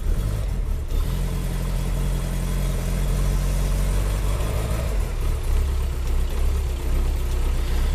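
A Rover P6 engine idles just after starting on choke with hand-pumped fuel, a close, steady low rumble with an even pulsing beat, running alone without talk.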